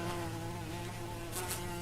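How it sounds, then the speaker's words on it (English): Insects buzz close by outdoors on the Costa Blanca, and mosquitoes and wasps are named as the source. The whine is faint but sustained and steady, with a couple of louder passes near the end. No one speaks. "We're sat here being attacked by mosquitoes and wasps."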